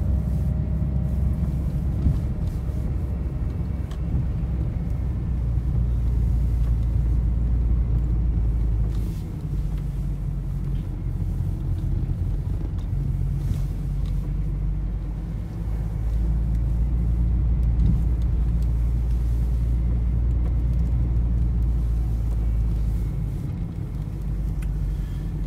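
Renault Trafic nine-seat van driving on a road, heard from inside as a steady, loud low engine and road rumble that continues unbroken, with slight dips in level, and no talking.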